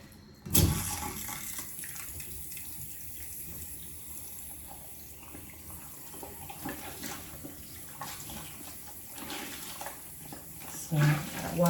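Running tap water splashes steadily while a person rinses soap off their face at a sink, a continuous close wash with brief louder splashes near the start and end, and speech present over it.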